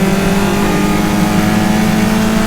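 Caterham race cars circuit Croft Circuit, their engines producing a loud, steady mid-pitched drone with a sustained tone that holds without a break.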